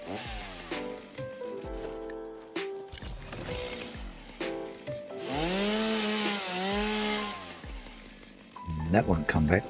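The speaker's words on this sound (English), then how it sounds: "Sorry, tree, you gotta go. And to do that, I need a chainsaw." Chainsaw in Satisfactory cutting down a tree in a desert area, its engine revving up and down in repeated pitched surges, loud and close, with someone talking over parts of it.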